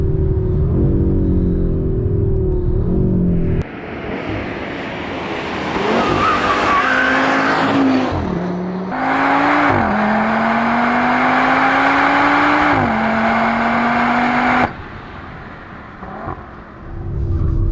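A 2025 Audi RS3 is driven hard on a race track, heard loudly from close by. The engine note climbs and drops through the gears, with tire squeal and a brief quieter stretch between runs.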